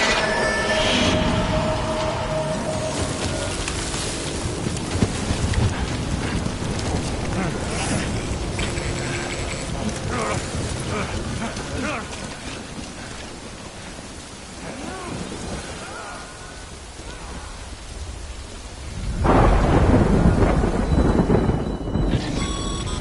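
Rain and a thunderstorm in a video game, a dense steady hiss of rainfall with low rumbles throughout and a louder surge of thunder near the end, mechanical clicks now and then.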